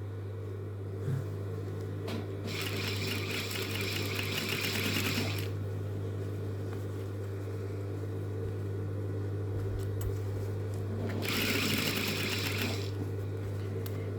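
A sewing machine stitches close along a pocket's edge in two bursts of close, buzzing motor whir, separated by a lull where only a steady low electrical hum remains.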